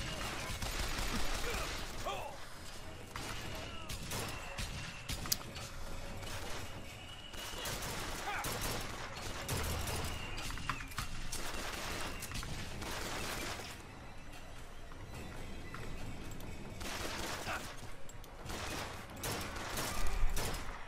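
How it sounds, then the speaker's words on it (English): Enemy gunfire in BioShock Infinite, bursts of rapid shots and mechanical clatter recurring throughout amid a busy, dense battle din, with someone talking at times. "I don't see how he's shooting me from there"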